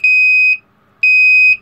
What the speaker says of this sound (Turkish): Bu arada buzzer'ımızın kablosu değmiyor herhalde. Onu da çalıştıralım.